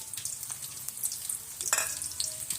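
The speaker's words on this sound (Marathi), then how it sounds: "आता हे कांदे व्यवस्थित आपल्याला हलके सोनेरी होऊपर्यंत भाजून घ्यायचं आहे" Two finely chopped medium-sized onions fry in hot oil in a kadai, giving a steady close sizzle with occasional soft stirring scrapes and brief crackling bursts.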